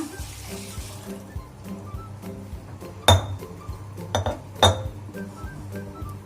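A metal cooking vessel being rinsed: metal and glass vessels clink sharply a few times amid soft sloshing and handling noises, close by, with no one talking.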